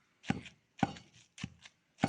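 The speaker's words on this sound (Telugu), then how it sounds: "ఉప్పు గోంగూర పచ్చిమిరకాయలు మెత్తగా దంచుకోండి" Salted gongura leaves and green chillies are pounded by hand, giving four dull, close thuds at an even pace with silent gaps between blows.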